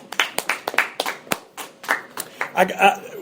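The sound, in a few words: audience applause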